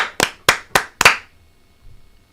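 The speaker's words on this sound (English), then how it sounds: "5 claps. Ready?" Four sharp hand claps in a quick, even rhythm, close and loud, during a live-streamed sports talk show, followed by near silence.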